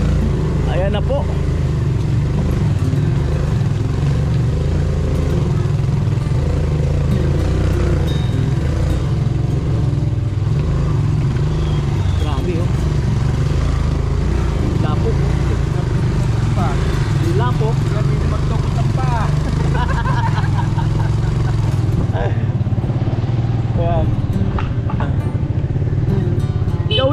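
Motorcycle engine running steadily close by on a Filipino street, a constant rumbling drone throughout with people talking over it.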